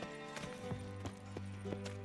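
Horse hooves clip-clopping in The Witcher 3: Wild Hunt, a quick steady series of hoof clops about every third of a second over a low droning game background.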